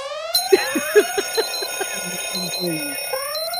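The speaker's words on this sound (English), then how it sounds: "My alarm" A phone alarm goes off with rising electronic chirps and ringing tones, fairly loud and continuous, while people talk over it.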